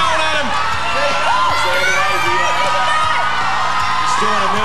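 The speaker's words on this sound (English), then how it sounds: "Listen to the crowd getting behind him." A lively TV game show audience cheers, whoops and yells steadily for a climber scaling the wall in the Climbing the Mountain challenge, close and continuous, with a commentator talking over the noise throughout.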